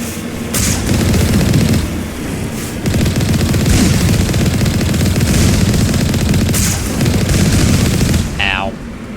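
Turret gunfire in the Mass Effect video game: loud, continuous rapid-fire shooting with periodic heavier bursts, ending with a brief electronic chirp.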